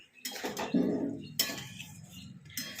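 Potol (pointed gourd) being stirred and sautéed in a pan for a Bengali potoler dalna, with a few close metallic scrapes and clinks of utensil against pan, fairly loud and steady, no talking.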